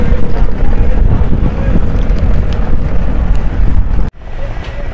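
Passenger launch MV New Meghna Rani cruising on a river from Dhaka, a steady loud engine drone with wind buffeting the microphone, briefly cutting out near the end before resuming.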